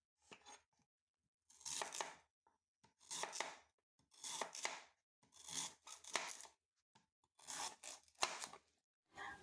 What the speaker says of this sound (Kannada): ನಂತರ ಇದನ್ನು ಸಣ್ಣ ಸಣ್ಣಕ್ಕೆ ಕಟ್ ಮಾಡ್ಕೋತಾ ಇದ್ದೀನಿ